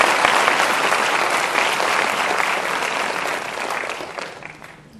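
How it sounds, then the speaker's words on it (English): An audience at the Yuvak Biradari 40th anniversary event claps loudly and steadily, the dense applause fading slightly toward the end. "Feel free to clap, he deserves it."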